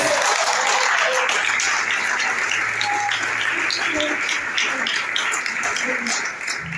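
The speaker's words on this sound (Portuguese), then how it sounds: "Você pode aplaudir o Senhor por isso?" A congregation at a church service applauds steadily and fairly loudly throughout, a dense wash of clapping that fades slightly near the end, with faint voices mixed in.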